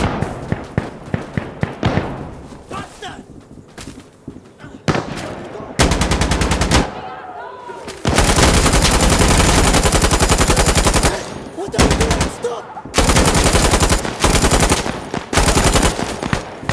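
Loud, close machine gun fire in the shooter game Insurgency Sandstorm, a series of short bursts giving way to long sustained streams of rapid shots, separated by brief gaps.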